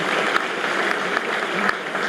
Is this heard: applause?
yes